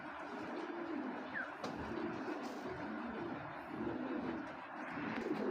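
Pigeons in a Bangladeshi breeder's loft coo low and steadily, several birds overlapping in a soft continuous murmur nearby.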